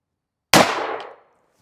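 A single sharp report from a Ruger LC Charger pistol firing a Hornady 40 grain FTX round in 5.7x28 through a non-threaded barrel, loud and close, with a short decaying tail and no talk.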